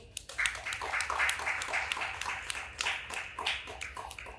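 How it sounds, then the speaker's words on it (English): An audience at a business conference talk on AI gives a big round of applause for two speakers, a dense, steady wash of many hands clapping at moderate distance for several seconds. "Let's start with a big round of applause to Erik and Alejandro."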